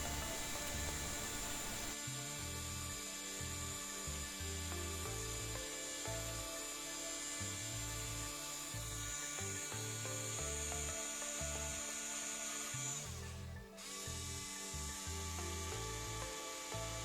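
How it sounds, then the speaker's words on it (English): A Ryobi multi-tool fitted with Velcro-backed abrasive pads sands a wooden bowl, giving a steady close buzzing whir with a rhythmic rubbing pulse throughout and a brief dip near the end; no talking. "I get on okay with my little multi-tool, Ryobi multi-tool, and just slap a bit of abrasives, Velcro back abrasives on"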